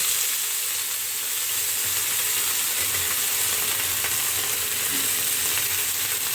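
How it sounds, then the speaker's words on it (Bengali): Vegetables dropped into hot oil in a home kitchen give a steady, loud, close sizzle that fills the whole stretch, a dense broadband hiss with faint clinks and stirring under it and no talking. "এইদিকে তেলও গরম হয়ে গেছে, এবার আমি একে একে সবজিগুলো ছেড়ে দেবো।"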